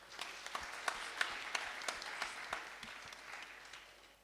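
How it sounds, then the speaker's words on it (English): Audience applause for a Bharatanatyam dance performance in New Zealand, a steady crowd of clapping with scattered louder claps, sustained for about four seconds and slowly fading, no talk over it. "Please give a round of applause."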